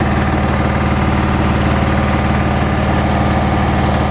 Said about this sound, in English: when you max it out in the cockpit, you can still reach down onto the engine and go and pull it